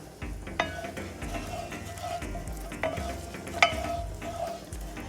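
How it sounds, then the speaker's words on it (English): Oil and all-purpose flour for a dark gumbo roux are stirred gently in a pot with steady soft sizzling, while a spoon scrapes and taps the metal in occasional sharp clicks. "I'm just going to gently stir this."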